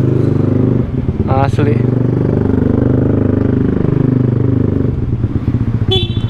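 A motorcycle engine idles steadily after a keyless remote fix, a continuous low rumble close by with a light revving swell, while someone talks over it throughout.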